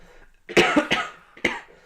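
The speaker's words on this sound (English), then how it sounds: "I've been cursed with a cough" A burst of several close, loud coughs in quick succession, with a final single cough after a short pause.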